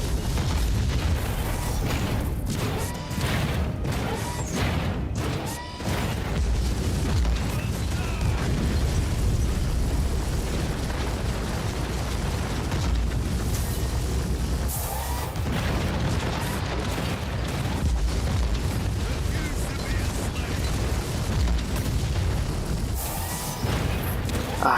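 Repeated cannon blasts in the Warhammer 40K: Inquisitor - Martyr video game, fired from an Imperial Knight's cannon: a dense, continuous barrage of booming explosions and crashes filling the whole stretch, loud and close.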